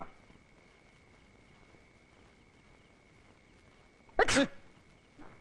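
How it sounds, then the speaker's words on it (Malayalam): A man sneezes once, sharp and close, in a quiet room at night during a Malayalam film comedy scene, with a softer brief sound about a second later. "ഞാൻ തുമ്മിയതാ."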